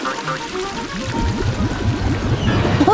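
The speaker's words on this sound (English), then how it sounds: "Flushing now!" A toilet being flushed: a gurgling rush of water swells and churns steadily for a few seconds, close by, with no talking.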